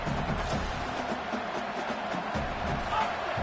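A steady roar from the stadium crowd at an Indiana versus Michigan college football game, a broad sustained rumble with a commentator talking over it.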